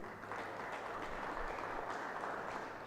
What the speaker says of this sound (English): My sincere request, when you are giving an applause, please make it resounding applause.